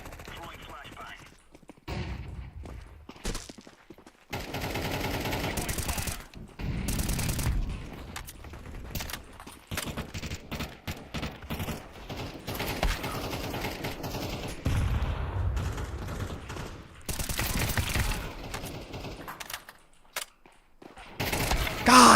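Rapid bursts of video game gunfire crackle in sharp volleys and automatic strings, alternating with brief quiet gaps and scattered muffled thumps, with someone talking intermittently over the shooting.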